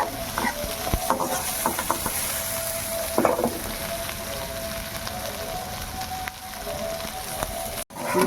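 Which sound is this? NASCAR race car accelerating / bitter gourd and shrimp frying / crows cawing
bitter gourd and shrimp frying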